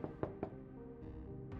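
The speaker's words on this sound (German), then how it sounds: "Klopf, klopf." Knocking on a house door in the game Vampyr, three quick knocks close together at the start, followed by a sustained ambient game background.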